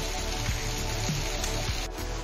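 Heavy, continuous rain in Ajmer falls as a steady, dense hiss across the whole stretch, with no breaks and no voices.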